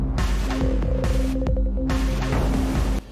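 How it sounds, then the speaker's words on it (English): Looping electronic game music from Foreverhood with a steady throbbing bass pulse and rapid repeating tones that resemble a point counter ticking up, loud and continuous before cutting off near the end. "Why does that part of the music sound like a fucking point counter going off?"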